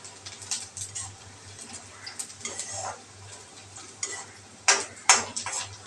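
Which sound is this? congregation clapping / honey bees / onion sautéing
onion sautéing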